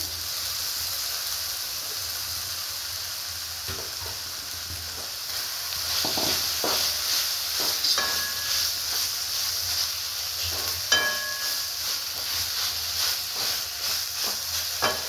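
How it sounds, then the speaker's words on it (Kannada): Roasted hyacinth beans drop into a hot pan with tomato and salt and sizzle steadily and loudly, with scraping stirs and a few sharp clinks of a spoon against the pan partway through. "ಈಗ ನೋಡಿರಿ, ಹುರಿದಿರೋ ಅವರೆಕಾಯಿ ಹಾಕ್ತಾ ಇದ್ದೀನಿ"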